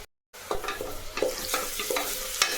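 Ground fennel, green chilli and garlic are stirred with onion in a hot pan, a quiet sizzle broken by repeated scraping strokes of a spoon after a brief silent start.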